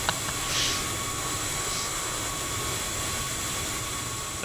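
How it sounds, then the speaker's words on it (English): Fenix A320 airliner engines roar in Microsoft Flight Simulator, a loud, steady broadband rush with a high whine running throughout, alone with no talking. "If you can hear me over the roar of these engines."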